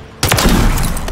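Loud, dense gunfire bursts out abruptly in Call of Duty MW3 during a Search and Destroy match, a sustained close volley that fills the moment with no talk.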